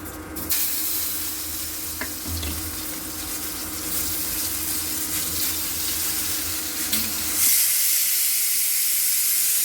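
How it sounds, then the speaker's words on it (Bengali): Steam hisses steadily from a pressure cooker, a broad rushing noise that turns brighter and louder near the end as the whistle-like release builds. "প্রেসার কুকারে সিটি পড়ার মতো হয়ে গেছে"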